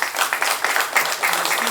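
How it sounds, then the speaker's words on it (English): An audience at a Black boys and men symposium gives a pastor steady, fairly loud applause, many hands clapping together in a brief burst. "Can you just give him a big round of applause?"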